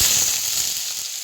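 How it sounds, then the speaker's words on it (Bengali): Chopped onion hits hot mustard oil already spiced with panch phoron, giving a brief, close, bright sizzle that fades a little within a second. "পেঁয়াজটি হালকা ভেজে নেব।"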